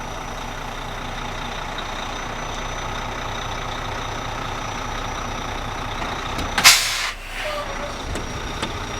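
A semi truck rumbles steadily at low speed as it backs its fifth wheel under a trailer. Near the end a single loud burst of air hiss cuts through, then the engine drone carries on.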